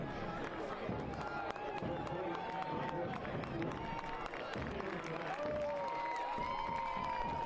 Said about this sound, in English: Warm round of applause for the hometown Ibarra.